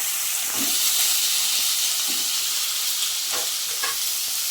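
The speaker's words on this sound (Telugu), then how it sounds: "ఇప్పుడైతే ఇంకొంచెం ఆయిల్ వేసుకొని, ఇవ్వండి నల్లేరు మనం కట్ చేసి పెట్టుకున్నాం కదా, అదైతే వేసేద్దాం" Chopped nalleru (veldt grape) stems fry in hot oil in a pan, giving a steady close sizzle and hiss with occasional soft stirring scrapes and no talking.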